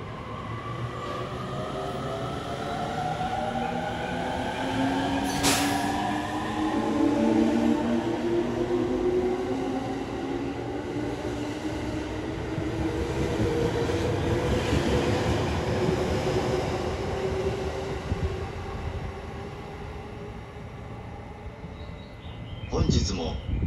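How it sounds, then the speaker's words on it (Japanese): A local train pulls into a station platform on the Tokaido Line: a long, loud rumble with rising and falling wheel tones and squeals, a brief sharp clank near the start and a burst of noise at the end. "The local train will arrive shortly on track 6."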